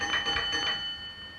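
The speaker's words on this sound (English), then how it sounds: "4 beats on the bell indicates an express passenger train." A railway signal box telegraph bell of the LMS, 1938, rings in quick strikes, about three bright metallic beats close together with a faint decaying tone afterwards, no voices.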